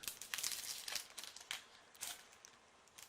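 Crinkly plastic of a Pokémon booster pack wrapper being torn open, a close, quiet run of irregular crackles and crumples with small tearing bursts and no voices.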